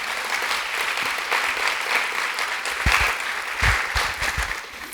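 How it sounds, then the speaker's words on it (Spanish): Congregation applauding at a Spanish-language church service, steady dense clapping from a large crowd throughout, swelling slightly toward the end. "Un aplauso para el Señor que hace eso."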